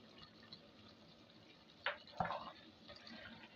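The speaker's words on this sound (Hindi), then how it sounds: "तकरीबन 2 चमचे जाएगा इमली का पानी।" About two spoonfuls of tamarind water go into a pan of cooking mixed vegetables with cabbage, heard as two brief, faint splashes over a low background hiss.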